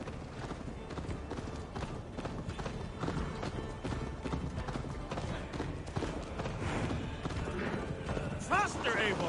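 Horse hooves gallop in a steady clip-clop rhythm during a ride in the video game Assassin's Creed Valhalla, continuous and fairly loud under game music and character voices, with a brief whinny near the end.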